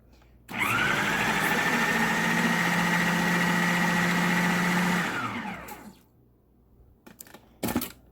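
An electric mixer whirs through pumpkin cheesecake batter, a steady loud motor hum that starts abruptly, holds for about four seconds, then winds down and stops, followed by a few small clicks and knocks.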